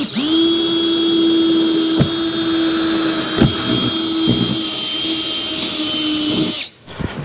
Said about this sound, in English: So let's drill the top pieces for the lid here next